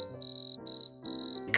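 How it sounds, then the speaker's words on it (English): Crickets chirp in three rhythmic bursts of high trilling, clear and close, the stock sound effect for awkward silence, with no voices. "crickets"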